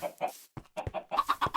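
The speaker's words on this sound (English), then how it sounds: "Did I just hear an egg get laid?" Video-game chickens from a warm biome cluck in short, choppy bursts, several quick clucks in a row close by, with a brief pop-like sound as an egg is laid.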